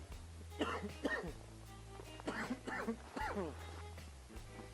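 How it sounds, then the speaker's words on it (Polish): A person coughs a few times in rough, throaty bursts, close up, with a steady low hum behind, outdoors on Babia Góra in winter. "Poranny kaszel."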